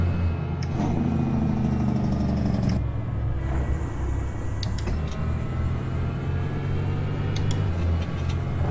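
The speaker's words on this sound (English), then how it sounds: "So I do have to rev the snot out of it" An old supercharged Cummins truck engine in American Truck Simulator revs hard and steadily, a loud, continuous drone with shifting pitch and no voices over it.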